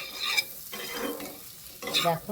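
Food fries and is stirred in a pan, with a steady sizzle and scraping strokes at the start and end. A voice speaks briefly.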